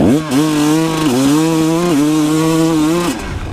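A dualsport motorcycle rides off-road at full throttle, its engine holding a loud, steady droning whine that climbs in pitch with small dips as it bites for traction, close to the rider, then fading at the end.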